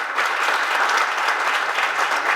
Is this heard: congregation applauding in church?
yes